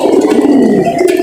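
Pigeons give a low, soft cooing close by, a short continuous murmuring call with no talk.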